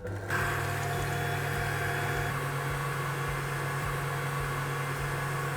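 A stand mixer with a whisk attachment beats aquafaba for a vegan pavlova, giving a steady, close motor whir with a low hum that runs unbroken throughout, with no voices.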